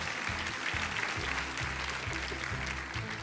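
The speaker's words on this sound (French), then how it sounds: "Et je pense qu'on peut remercier David aussi et l'applaudir bien fort." Studio audience applause on a French talent game show, a steady, fairly faint wash of clapping that runs through the whole stretch.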